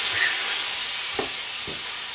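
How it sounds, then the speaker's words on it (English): Cider poured into a hot pork pan sizzles and hisses steadily as it deglazes the browned pork bits, a dense continuous fry with a couple of brief bubbling bursts, close and alone without talk. "add a little bit of cider to it and you'll see it starts to lift and deglaze"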